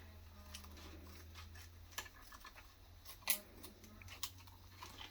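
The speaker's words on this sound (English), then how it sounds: "I'm going to take these scissors and I'm going to cut right along the border." Several sharp snips and clicks of scissors cutting a plastic aligner tray, spaced irregularly, close up against a quiet low hum, with one louder crisp cut near the middle.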